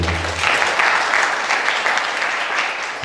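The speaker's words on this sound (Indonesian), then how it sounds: "Tepuk tangan untuk kalian semua." A crowd claps for young kethoprak performers at a traditional theatre gathering. The sustained, fairly loud applause runs throughout, and a low hum or voice is briefly audible at the start.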